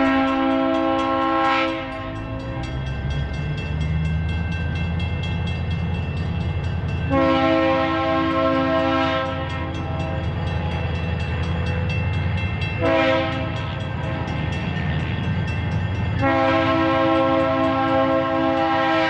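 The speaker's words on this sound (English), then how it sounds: "we caught the short train crossing Trombley Street" A short freight train on the Detroit Connecting Railroad rolls across Trombley Street in Detroit, with a steady low rumble of wheels and cars under repeated loud horn blasts in several long sounding phrases.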